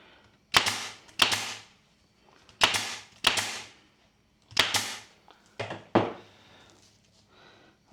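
A staple gun firing into upholstery on a vintage 1950s diner stool, about ten sharp snapping shots heard up close in irregular pairs and singles with brief pauses between them, no talking.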